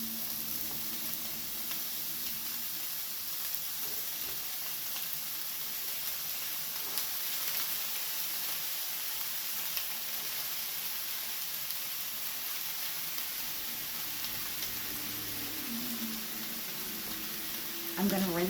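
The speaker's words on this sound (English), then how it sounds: "I'm just going to break up the ground beef and put it in the pan. And let all that cook together." Ground beef cooking in a pan for American chop suey, a soft continuous sizzle and hiss that stays even throughout, fairly quiet, with faint voice-like sounds near the end.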